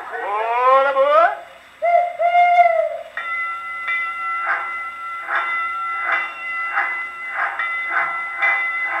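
A train whistle sounds repeatedly in short, rhythmic blasts after a brief rising tone, clear and fairly close.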